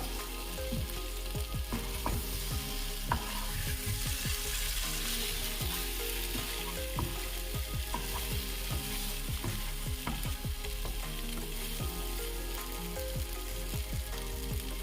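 A spice masala sautés in a pan with a continuous dense sizzle and repeated scraping, tapping strokes from a spoon stirring it, steady and close with no talking.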